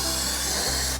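Lubricant sprayed from an aerosol can onto a camper van's retractable step mechanism, a steady close hiss lasting about a second before cutting off.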